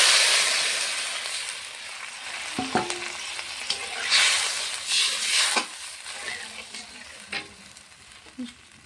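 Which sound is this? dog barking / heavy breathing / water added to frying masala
water added to frying masala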